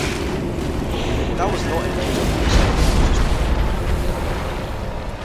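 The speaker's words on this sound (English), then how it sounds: "He's going for the explosion." A boss unleashes an explosion attack in Dark Souls 3 during the High Lord Wolnir fight, a loud rumbling boom that swells and lingers for several seconds beneath a man's brief speech.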